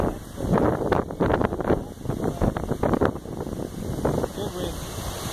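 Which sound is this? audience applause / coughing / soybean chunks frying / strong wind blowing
strong wind blowing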